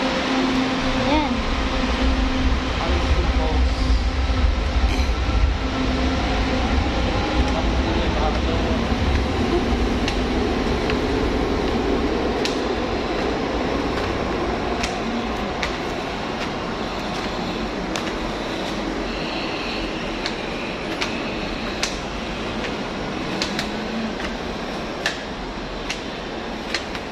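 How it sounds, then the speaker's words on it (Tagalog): Ride on a Manila LRT train, a steady rumbling drone of the moving car with fan-like hum and occasional clicks and rattles, continuous throughout and close. "Dalawang taon mahigit bago ako nakasakay ulit ng LRT."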